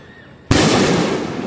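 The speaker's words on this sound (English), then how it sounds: "That's some fireworks." Fourth of July fireworks burst loudly after a quiet moment outdoors on a bridge, a sudden broadband blast that rumbles on for about a second.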